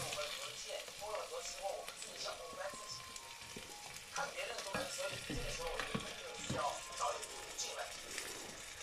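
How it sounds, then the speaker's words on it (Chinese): Onions and tomatoes stir-fried in rendered beef marrow fat sizzle steadily and fairly close, with a continuous crackling hiss and occasional scraping stirs, and a voice talks over the cooking. "先把洋葱炒香，然后下入番茄翻炒"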